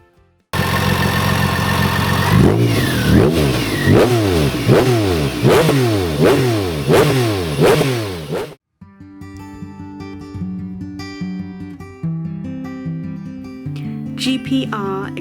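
A BMW K1600GT motorcycle fitted with a carbon GPR exhaust revs hard about eight times in quick succession, loud and near, then the engine cuts out and quieter music-like tones follow.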